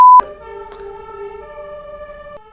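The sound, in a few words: fire truck siren passing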